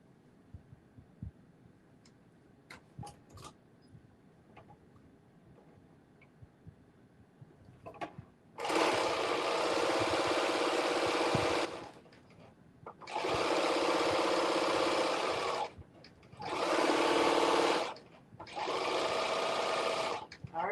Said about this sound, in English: I got to use my cover stitch machine.